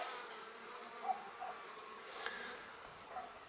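Honeybees buzzing at a frameless hive in a Caucasus natural-beekeeping setting. The hum is a faint, steady, continuous drone throughout, with no voices.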